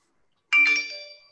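A phone notification chime sounds once, a clear bright electronic tone that rings out and fades over about a second in an otherwise quiet room.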